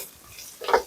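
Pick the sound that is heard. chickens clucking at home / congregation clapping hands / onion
onion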